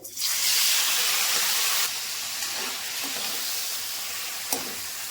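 Tomato pieces and whole spices such as cardamom and cinnamon hit hot oil in a pan with a loud, bright burst of sizzling that settles after a couple of seconds into a steadier, quieter fry, with a brief clink near the end.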